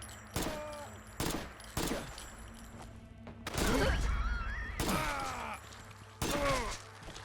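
Bursts of video game gunfire from an overpowered weapon in Fallout London, loud separated volleys with ringing tails, a longer heavy barrage in the middle, no speech over them.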